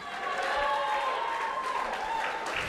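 Applause and cheering from a crowd greeting fighters at a combat sports event, a steady dense wash of clapping that holds at even loudness throughout with no voices standing out.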